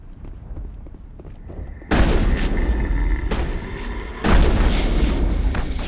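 Grenades go off in the video game Mass Effect, two heavy booming blasts a couple of seconds apart, each followed by a loud rumbling tail over quieter background game sound.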